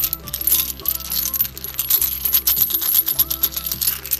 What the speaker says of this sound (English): Silver sound is always so attractive.